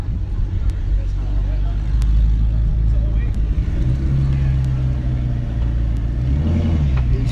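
Porsche GT4, GT3 RS and BMW M4 sports cars maneuvering at a supercar event, a loud low engine rumble that shifts pitch as one car revs and moves slowly, with outdoor ambience throughout.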